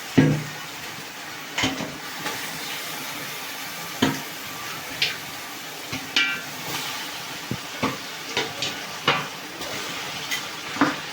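Country chicken pieces tossed into a hot pan and stirred through onion paste for a village-style curry, with a steady sizzle under repeated scraping and clanking of a spoon against the pan at an uneven rhythm.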